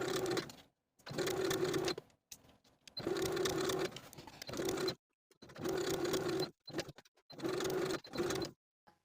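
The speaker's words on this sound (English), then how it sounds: "back stitching to secure" A sewing machine back-stitches the binding on an open-front jacket in five short bursts of steady whirring stitching. Brief silent pauses separate the bursts.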